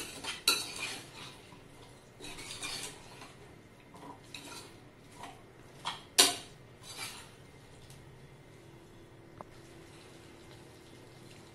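Vegetables with bell pepper being sautéed in a pot for veg pulao, with clinking and scraping of a metal spoon against the pot in a few bursts, quiet between strokes and close by.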